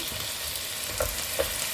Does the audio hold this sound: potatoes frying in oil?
yes